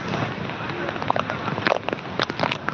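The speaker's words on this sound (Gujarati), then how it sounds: "વરસાદ સતત વરસી રહ્યા છે" Steady broadband rain hiss with scattered sharper drops and patters, fairly close and continuous throughout, with wind, at an outdoor fairground.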